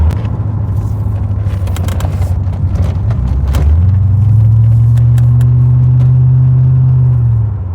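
A Chevrolet Corvette C4's deep, rumbling engine drones steadily, then revs up into a louder, sustained throaty roar, close and continuous with no talking.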